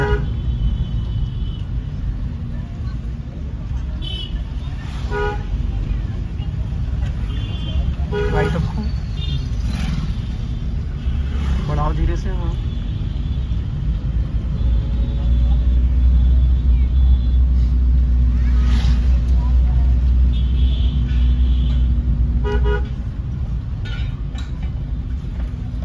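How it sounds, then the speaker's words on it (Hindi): A car pushes through heavy traffic on a village road, with a constant low engine rumble, repeated horn toots from surrounding vehicles and passing motorbikes. Someone talks over the noise at times. "ट्रैफिक कितना ज्यादा है यहाँ पे, ऐसे ट्रैफिक में गाड़ी निकालना है"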